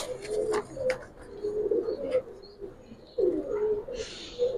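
Giribaz and coloring pigeons of an old breed line cooing in repeated low, throaty phrases, close and fairly soft, with a few faint chirps over the top.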